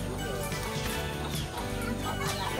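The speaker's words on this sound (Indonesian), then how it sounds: "Ada ayam." Chickens cluck and call amid a dense, busy background with some low murmuring voices, steady and fairly loud throughout.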